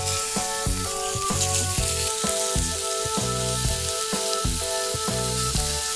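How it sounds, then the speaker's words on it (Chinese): Pork belly slices sizzle in a heated flat pan over low heat with no added oil, a steady close frying hiss running throughout under a patterned musical backing. "直接下入肉片开始煸炒"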